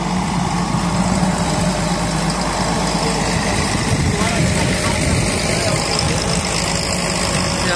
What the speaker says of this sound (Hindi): ये चल रहा है भाई साहब पानी वाला इंतजाम।